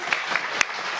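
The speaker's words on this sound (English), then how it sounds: "So, round of applause." An audience applauds at a law school moot court competition final round, a dense, steady patter of many hands with a few sharper individual claps standing out, fairly close and brief.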